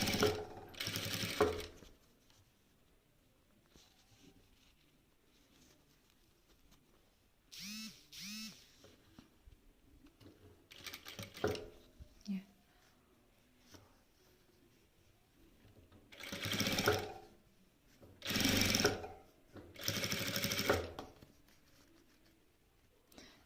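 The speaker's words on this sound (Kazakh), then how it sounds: "екіге бүктеп алып, үстінен бастырып, прямой строчкада осылай тігіп алыңыздар" Sewing machine running a straight stitch through folded felt, sewing loops for a felt chest; short mechanical bursts of stitching separated by quiet pauses, fairly close, with no talking.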